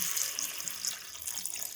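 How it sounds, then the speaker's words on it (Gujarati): Water splashes steadily into a cooking pot holding potatoes and peas with mixed spices, a soft continuous hiss and trickle close by with no voices. "આપણે બટાકા ગળે એટલું પાણી એડ કરી દઈશું"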